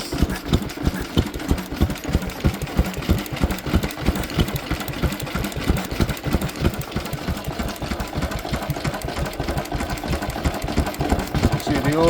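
A restored Lister H type engine runs steadily, its oil pump and fuel pump working, with a loud, even, rapid thumping beat held for the whole stretch, close up.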